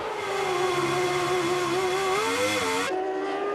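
A 1997 Williams-Renault Formula 1 car leaving the pits, its high-pitched V10 wail loud and sustained, rising and shifting in pitch before cutting off abruptly.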